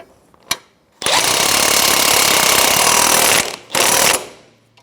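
Impact wrench tightening a 13 mm ball joint pinch bolt on a 2007-2012 Nissan Versa front suspension, a sharp short burst followed by a loud sustained rattling hammer of a couple of seconds, then a brief final burst, close up.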